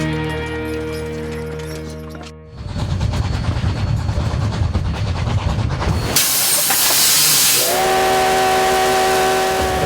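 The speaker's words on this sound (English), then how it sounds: "A coal-fired steam train rumbles through the wide-open prairie of the American West." A coal-fired steam train on the Cumbres & Toltec Scenic Railroad chuffs and hisses loudly with heavy rumbling, a burst of venting steam, then a long steam whistle blast sounds near.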